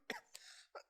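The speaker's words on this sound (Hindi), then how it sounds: "ज़्यादा देर बोलने के बाद क्या होता है, खांसी आ जाता है" A man coughs after a long stretch of talking, three short bursts close to the mic, the first strongest, followed by a gravelly throat-clearing rasp and a final softer cough.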